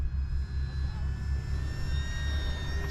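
A Cessna 182 Skylane RC plane from FMS with a 4S electric setup flies slowly, giving a steady, continuous motor and propeller drone with a thin high whine that holds at an even level for the whole stretch.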